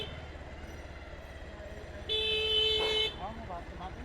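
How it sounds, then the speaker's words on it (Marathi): A single car horn blares steadily for about a second on a busy road, loud over a continuous low engine hum, with a voice briefly heard afterward. "नुसते हॉर्नच दाबतात"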